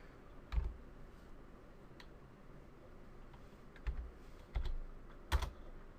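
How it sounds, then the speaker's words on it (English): Scattered keystrokes on a computer keyboard come as a handful of soft, irregular clicks with pauses between them, over a low steady room hum. No one speaks. "Just going to quickly type this out"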